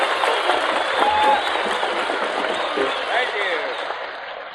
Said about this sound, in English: let's make him welcome with a great big hand of applause